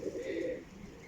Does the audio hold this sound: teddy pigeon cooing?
yes